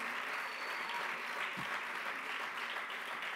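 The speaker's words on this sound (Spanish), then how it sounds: "un aplaudiment pel Gustavo Duch" Continuous audience applause at the Premis Ones Mediterrània 2022 awards ceremony, a fairly quiet but steady wash of many hands clapping with no speech over it.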